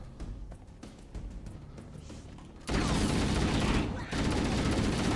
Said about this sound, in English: Somebody is shooting.